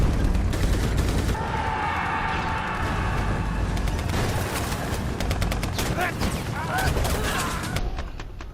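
Dense battle gunfire from a film depicting the 1939 Soviet-Japanese fighting at Nomonhan, with rapid machine-gun bursts and overlapping rifle shots forming a continuous loud fusillade, mixed with shouting voices.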